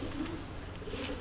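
A pigeon held in the hand gives soft, low cooing, steady and close over a short stretch, with no voices.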